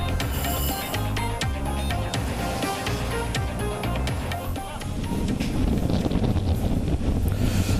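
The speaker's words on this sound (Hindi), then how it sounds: "आप देख सकते हैं काफ़ी तेज़ हवाएं वहां पर चल रही हैं।" Strong Cyclone Tauktae winds roar and buffet the microphone in a loud, continuous gusting rush, in Mumbai.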